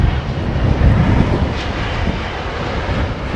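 An airplane comes in for a long landing, its engine a steady, broad rumble and hiss that swells slightly and then holds, with no voices.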